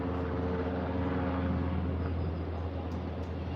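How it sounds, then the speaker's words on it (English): A Mexican navy (Marina) helicopter passes overhead, giving a steady, droning rotor and engine hum that stays fairly loud and even throughout. "there's the Marina helicopter"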